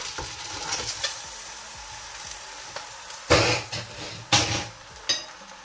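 Onion, garlic and chicken sizzle in a pot, with a steady frying hiss broken by several loud scraping stirs of a spoon against the metal toward the end.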